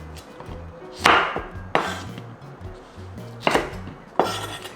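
A knife halves chili peppers on a cutting board: four sharp, distinct cuts landing roughly a second apart, close and crisp, with quiet handling sounds between and no voices.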